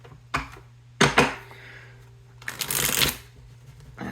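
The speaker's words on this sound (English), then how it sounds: "That's a lot of shuffling" Tarot cards are shuffled in several quick riffling bursts, close and crisp, with short pauses between, ending in a longer flurry of shuffling.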